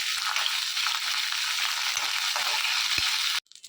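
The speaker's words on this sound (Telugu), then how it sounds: "ఆయిల్ బాగా వేడెక్కిన తర్వాత పచ్చెనపప్పు, వెల్లుల్లిపాయలు, ఎండుమిర్చి, ధనియాలు, జీలకర్ర, కరివేపాకు వేసుకుని ఇవన్నీ కూడా బాగా ఫ్రై అయ్యేలా వేయించుకోవాలి." Chana dal, garlic, dried red chillies, coriander seeds, cumin and curry leaves fry in hot oil for a coconut chutney, giving a steady, close hiss of sizzling that cuts off abruptly just before the end.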